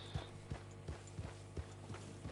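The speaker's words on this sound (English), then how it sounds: "Horses." Hooves from a horse in a video game clip-clop at a steady, regular pace of about two beats per second, faint and alone against a quiet backdrop.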